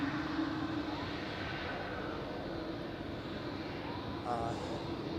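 A fixed-wing airliner landing at Zurich Airport, a steady, broad roar of jet engines heard from a distance across the airfield, constant and moderately loud throughout.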